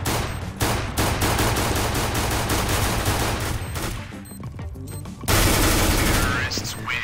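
Sustained automatic AK rifle fire in Counter-Strike: Global Offensive on the Mirage map, loud and continuous bursts for several seconds, then a short pause and another heavy volley, with a voice talking over the shooting.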